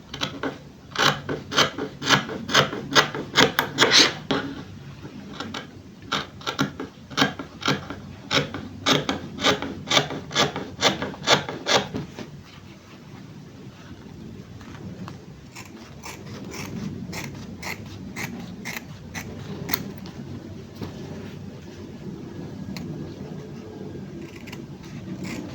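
Scissors cutting a gown sewing pattern, with a rapid run of crisp rasping snips for about twelve seconds, then softer, quieter handling and rubbing of paper or fabric alone.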